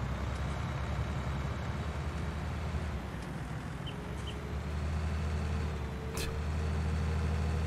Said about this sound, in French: on peut pas baisser le son du tracteur